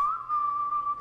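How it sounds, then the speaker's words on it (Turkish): A person whistles a single sustained, steady note held for about a second, clear and fairly close, with no talking. "Ayıcığın keyfi yerinde böyle ıslıklar falan maşallah."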